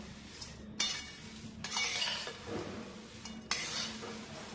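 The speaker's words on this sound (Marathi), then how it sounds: "आता हा चिवडा मी व्यवस्थित ढवळून घेते अगदी हलक्या हाती" Thin poha chivda being gently stirred in a pan, dry rustling scrapes arriving in a few soft surges over a quiet background, with light clinks of a spoon against metal and no talking.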